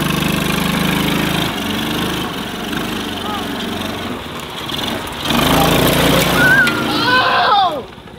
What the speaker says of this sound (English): Here comes Hudson in his new tractor.